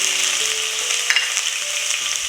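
Chopped aromatics fry in a couple of tablespoons of hot oil in a pan, a loud, continuous, close-up sizzle with a brief spatter partway through and no talking.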